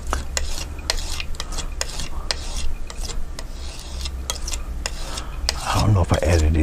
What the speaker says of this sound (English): Scrape some more black in there